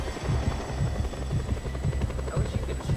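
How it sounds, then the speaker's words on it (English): Steady rotor-like thrum of a hovering drone in a video game, a low pulsing beat with a constant high whine, close and continuous for the whole stretch. "Alright, now we can take out the drone."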